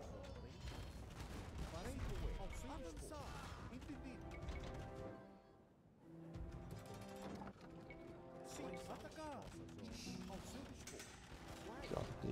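Booming cannon fire from a video game, bard cannons, repeated blasts and crashes over busy game music, with a brief lull midway.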